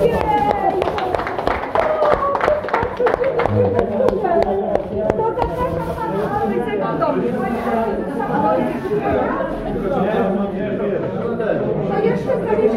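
An audience at a sales presentation claps with dense, rapid applause that is strongest early on and thins out later. Chatter and voices continue over and after it.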